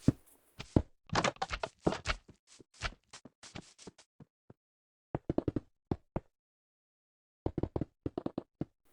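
Minecraft block placement while a door and tiles are laid, heard as sharp, dry knocks and taps: bursts of quick clicks, a pause, then sparser clusters of placement sounds with no voices.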